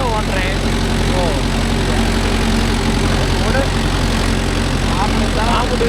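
A Mahindra tractor engine runs with a loud, continuous low drone that stays even throughout. People talk over it.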